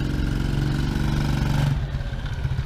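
TaoTao Cheetah 125cc ATV engine running nearby as it shifts from reverse and drives forward, a loud steady buzzing drone with a slight change in pitch partway through, no talk.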